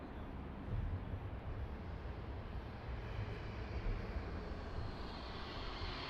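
A Transavia airliner approaching to land on runway 02 at Lisbon Airport, a steady broadband engine roar with low rumble, fairly distant and continuous throughout, no talk.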